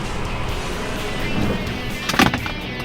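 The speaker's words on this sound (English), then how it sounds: "So I'm just taking it nice and easy over these rocks. Really slow, letting the tires grab." A 2017 Jeep Compass Trailhawk crawls slowly over trail rocks with a steady low engine rumble, close by, and a brief clunk of tires or body near the end.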